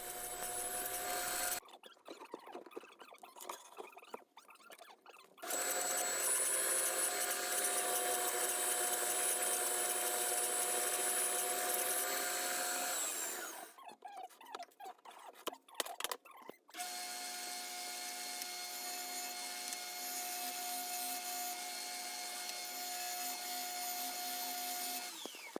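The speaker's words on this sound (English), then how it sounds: "I'm going to be cutting them out using my circle jig on my Shopsmith bandsaw." A Shopsmith bandsaw with a circle jig cuts circles out of 1/2 inch MDF board, a continuous whining hum with steady tonal lines and rasping cut noise, interrupted twice by short gaps.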